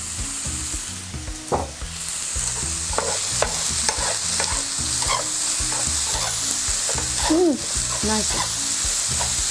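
Potatoes stir-fry in a pan with a little salt, giving a continuous close sizzle broken by repeated scraping stirs, and a voice briefly speaks near the end.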